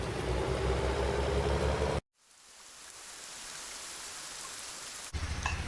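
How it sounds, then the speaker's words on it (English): Steady rain falls on a farm, a dense hiss for about two seconds, then cuts to quieter rain that swells back up and ends on a loud burst again. "Well, as you can see, it's still raining"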